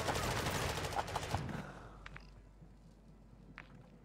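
Rapid bursts of gunfire in a first-person video game shooter, loud and dense for the first second and a half, then thinning to scattered shots and faint clicks with no talking.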